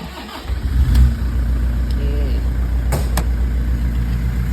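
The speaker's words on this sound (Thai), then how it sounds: "เดี๋ยวสตาร์ทฟังเสียงเครื่อง" A 2012 Toyota Vigo Champ pickup's 2.5-litre engine cranks and catches, then settles into a steady rumbling idle close by.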